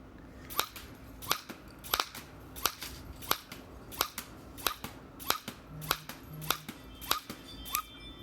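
A foam dart blaster fires twelve rounds in a steady series of sharp, snappy pops, each a crisp near shot spaced about half a second apart, with a brief low hum in the background near the end.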